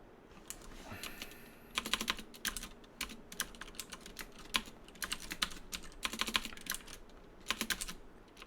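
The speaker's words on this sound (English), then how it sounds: "Come on, typing." Computer keyboard typing while programming, bursts of rapid clicking keystrokes with short pauses, close and moderately quiet, no talk over it.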